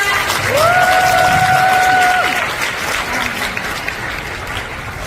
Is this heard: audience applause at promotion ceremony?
yes